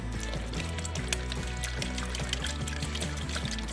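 Paint primer, mixed four to one, pours steadily out of a leaking container, a continuous close liquid trickle with faint low hum beneath.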